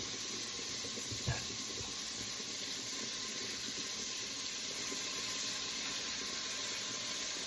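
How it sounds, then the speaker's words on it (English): Steam hissing steadily from under a slightly tilted pot lid while smothered cubed steak cooks, a constant broad hiss throughout with one brief soft knock early on. "I'm going to tilt that just a little and let that steam out."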